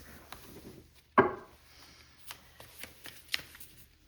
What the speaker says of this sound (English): going to shuffle the cards.